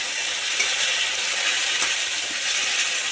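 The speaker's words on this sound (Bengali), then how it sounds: "টমেটোটা একটু ভেজে নেব।" Tomato sizzling in oil in a pan with already fried onions and a little sugar, a steady close frying hiss that runs unbroken throughout.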